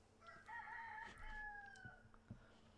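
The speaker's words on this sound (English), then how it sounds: "Thanks, Mr. Rooster." A rooster crows in the Fortnite Party Royale game, one drawn-out cock-a-doodle-doo rising then trailing off, fairly clear but quiet, with faint clicks and game sounds around it.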